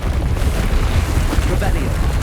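A deep booming blast from the Expelliarmus disarming spell in the Hogwarts Legacy video game, a dense rumbling burst throughout, heard with a voice.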